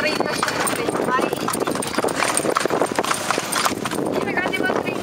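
Horse hooves clip-clop steadily on the road as the horse pulls a kalesa carriage, with people chatting loudly over the rhythmic hoofbeats throughout.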